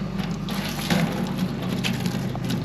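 Liquid chicken mite treatment being poured into a garden sprayer container, a steady close gushing and splashing of fluid running for a few seconds without pause.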